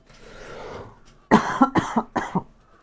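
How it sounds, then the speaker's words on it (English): A short burst of several rapid coughs, close and loud, following a brief soft rustle. "Oh, tickly cough."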